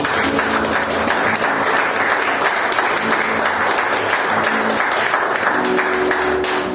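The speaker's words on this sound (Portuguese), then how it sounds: "Você pode dar uma salva de palmas para o seu Jesus." A church congregation applauds steadily throughout a Sunday service, a dense wash of clapping from many hands, loud and continuous without a break.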